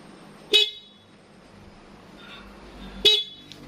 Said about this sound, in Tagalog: ito yung stock horn natin, ang magiging tunog niya, ganito kakadwa.